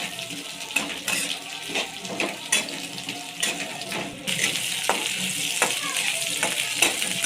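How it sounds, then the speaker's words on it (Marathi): Onion and bell pepper sautéing in hot oil in a kadai, with a steady close sizzle and repeated scraping strokes of a spoon against the pan. "आता हे चांगलं परतून घ्यायचं तेलामध्ये।"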